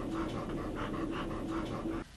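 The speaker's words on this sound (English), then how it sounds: "Unlike humans, dogs and cats eliminate heat by panting." A dog recovering from heatstroke pants rapidly and rhythmically close by, quick steady breaths for about two seconds, then stops abruptly.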